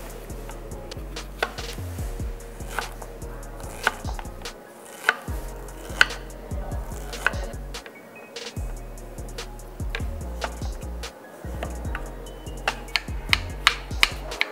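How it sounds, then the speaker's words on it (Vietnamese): A knife thinly slicing peeled zucchini on a cutting board, with steady, fairly close tapping chops in a quick rhythm and brief pauses between runs. "sau khi mà các bạn gọt vỏ thì bắt đầu chúng ta sẽ sắc mỏng và nhuyễn"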